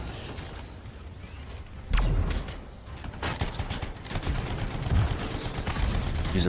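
Assault rifle fire in the Anthem video game, rapid bursts of gunfire with a loud impact about two seconds in, then continued crackling shots under someone talking.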